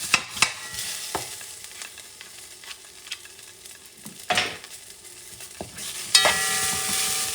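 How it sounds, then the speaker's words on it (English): Chicken wing stew being stirred in a pot with tomato paste, soft sizzling under irregular scrapes and knocks of a spoon against the pot, close, with a louder clatter near the end. "You're going to mix it, okay?"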